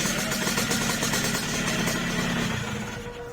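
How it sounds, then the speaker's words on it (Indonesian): A Yamaha YT 115 motorcycle engine runs at idle close by in a workshop, a steady loud throb with an even rhythm and no speech. "Motornya sudah hidup dan sudah bisa jalan."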